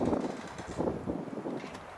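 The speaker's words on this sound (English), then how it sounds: "It's like a real crazy breeze just went by. Gusts." Wind gusting in broad, rushing swells that buffet the microphone, rising and falling over a couple of seconds with no voices.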